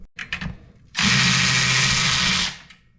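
A power drill or impact tool with a 10 mm socket spins a bolt off a 1957 Chevy, one loud continuous burst of about one and a half seconds after a few short clicks and handling knocks.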